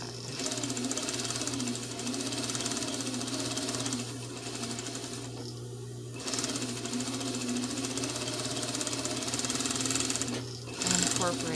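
An industrial-style sewing machine with a loud clutch motor runs steadily, its constant hum and rapid stitching chatter continuing for most of the stretch, with a brief pause midway, while a voice talks intermittently over it.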